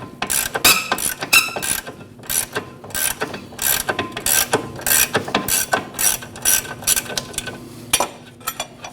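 Ratchet wrench loosening a 20 mm locking nut on a lower control arm bolt of a 2014-2023 Jeep Cherokee, with loud, close, rapid clicking in quick repeated bursts.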